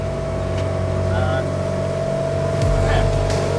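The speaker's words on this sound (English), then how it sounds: "That engine's just humming." A 34 ft timber boat's engine hums steadily while cruising, a continuous low drone with constant loudness, with a brief faint voice over it.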